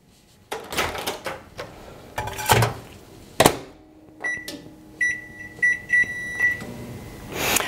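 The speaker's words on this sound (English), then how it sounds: "our 3-minute timer on the microwave just went off" A microwave timer beeps at the end of three minutes in a repeated series of short, bright tones, after several knocks and clunks of a door opening and handling.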